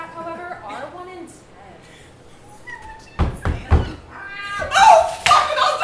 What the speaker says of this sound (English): I'm not scared of a little kitty!